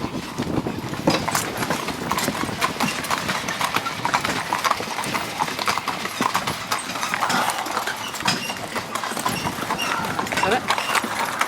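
Driving horses being trained for the show ring walk along in a steady, continuous clip-clop of hooves, close and clear, with a person's voice speaking intermittently over the footfalls.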